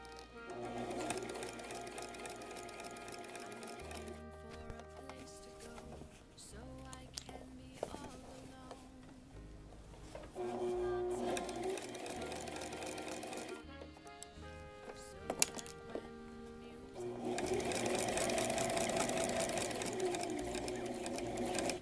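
Sewing machine stitching the side back pieces of a dirndl, running in steady bursts with short pauses between seams, close and clear with a whirring mechanical hum throughout.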